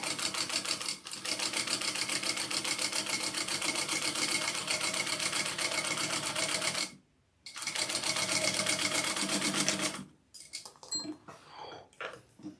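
Sewing machine quilting fabric, a fast, steady needle chatter running nearly continuously, pausing briefly, resuming, then stopping with a few handling clicks at the end.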